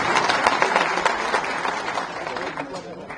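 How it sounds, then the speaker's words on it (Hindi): Audience applause from a seated crowd at a book launch event in Rajasthan, a dense steady patter of clapping that holds loud throughout and tapers slightly toward the end. "जोरदार तालियों से माननीय गुलाब जी का स्वागत करें"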